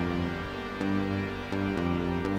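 Synth bass line from a Woovebox groovebox in song mode: a sustained, buzzy low tone holding steady notes that shift pitch roughly every 0.7 seconds, played alone and close.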